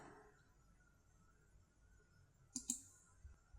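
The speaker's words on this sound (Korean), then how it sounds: "마우스 오른쪽을 클릭해주세요" Two quick, crisp mouse clicks in close succession in a quiet room, followed by a fainter click a moment later.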